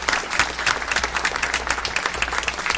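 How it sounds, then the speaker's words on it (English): Audience members at a school district board meeting applaud students, producing brisk, fairly loud clapping from a roomful of people, steady across the moment with no speech over it. "A big round of applause once again for all of the students here."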